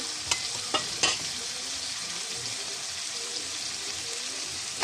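Food sizzles steadily while being lightly fried in a pan, with a few sharp spatula scrapes and clicks from stirring near the start and end.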